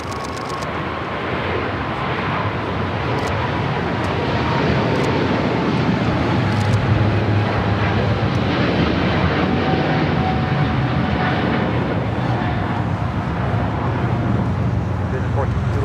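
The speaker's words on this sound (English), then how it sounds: "Singapore Flight 11 now rolling on 25 right" A Singapore Airlines heavy jet rolls for takeoff on runway 25 right at LAX, a loud, steady broadband engine roar that holds strong and unbroken from start to finish, with no voices over it.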